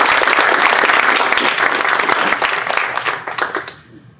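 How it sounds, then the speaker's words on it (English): Loud, dense applause from a seminar audience in Singapore welcoming a guest speaker, steady clapping for about three seconds before fading out near the end. "please give a round of applause"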